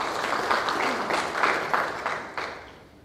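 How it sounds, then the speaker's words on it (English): An audience applauds at the 2022 Annual Women in Finance & Investment Summit in Mauritius. The even, steady clapping fills the room and fades out gradually toward the end. "Let's give a big round of applause for Meta Abadi."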